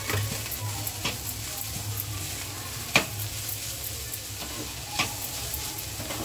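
Wild greens with coconut sauté in a pan, making a continuous soft sizzle with occasional light scrapes and taps of a spatula, close and fairly quiet with no talk.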